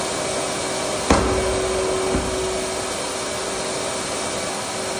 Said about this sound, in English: A short knocking sound indicates the cycle.